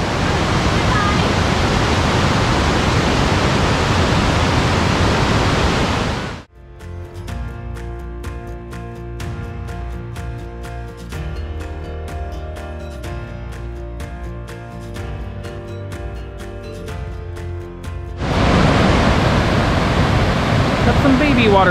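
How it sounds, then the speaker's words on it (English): A loud, steady waterfall roars at Burgess Falls State Park in Sparta, Tennessee, as a dense broadband rush at the start and end, broken in the middle by a stretch of music with no water sound. "Waterfalls."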